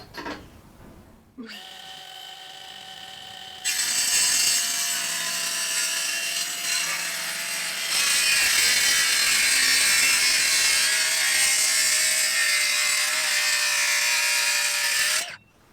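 A power saw cuts a solid hardwood timber worktop made from school desks, a loud, close, continuous whine that deepens and grows harsher as the blade bites, running about fourteen seconds before stopping abruptly.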